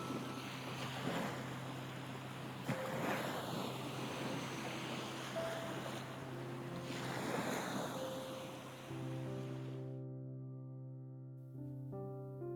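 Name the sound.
swirling ocean water of a vortex near Greenland's shore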